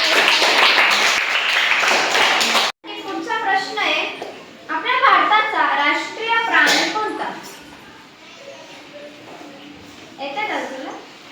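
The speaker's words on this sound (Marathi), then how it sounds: "पूर्वासाठी जोरदार टाळ्या" Schoolchildren at a primary school quiz clap for a correct answer, with a brisk burst of applause at the start. Children's chatter and speech follow once it stops abruptly.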